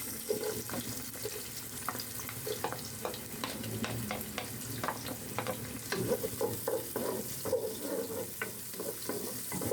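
Onions sautéing in a pan for chicken sinigang, with a steady sizzle broken by repeated scraping and stirring clicks of a spoon against the pan, plus some running-water sounds nearby.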